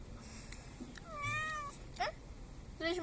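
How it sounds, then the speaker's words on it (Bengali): A white cat meows close by in a home kitchen, giving several short, clear cries in quick succession over a low background. "আমার পিছনে একটা বিড়াল আসতেছে সাদা কালার"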